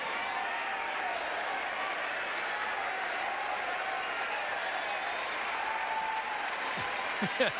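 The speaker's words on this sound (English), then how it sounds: "this has gotten this crowd excited" A tennis crowd at the US Open during a Henman versus Federer match applauds and cheers in a steady, distant wash, with a few brief sharper sounds near the end.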